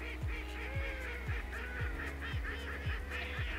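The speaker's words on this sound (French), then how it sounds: "c'est un couple de canards souchets qui vient se poser" A pair of northern shoveler ducks comes in to land near a waterfowl hunting blind in northern France, with repeated honking, goose-like calls at a steady rhythm under a constant low background rumble, no speech.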